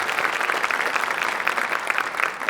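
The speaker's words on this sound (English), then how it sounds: "Let's have a big round of applause for all the students we're going to recognize tonight." An audience applauds National Honor Society inductees at a school induction ceremony, a dense, continuous wash of many hands clapping at close range without a break.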